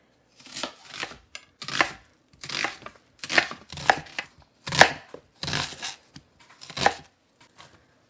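A knife chops onions on a board in about eight short bursts of rapid, crisp cuts, close and clear with quiet gaps between them.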